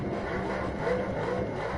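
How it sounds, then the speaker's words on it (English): A Ferrari engine in the racing game The Crew, driven on a circuit in first-person view, drones steadily and fairly loudly on its own, with no talk over it. "Oh yeah, I love the sound of the Ferraris."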